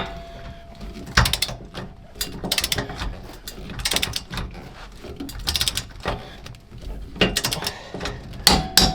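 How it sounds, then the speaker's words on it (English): A torque wrench ratchets in repeated bursts of clicking pawl strokes while a bolt is tightened during a shackle hanger install on a 2005–2023 Toyota Tacoma, loud and close with short pauses between pulls. "So let's go ahead and torque this down real quick."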